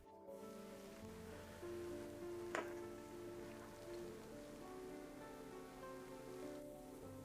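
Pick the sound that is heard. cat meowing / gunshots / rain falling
rain falling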